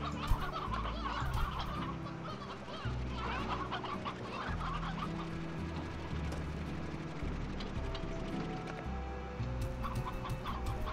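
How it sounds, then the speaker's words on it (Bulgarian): Chickens in the video game Slime Rancher cluck repeatedly in short bursts over a steady synthetic game music bed, fairly close and moderately loud, with no talking. "кокошки, че на мен ще ми трябва тия кокошки."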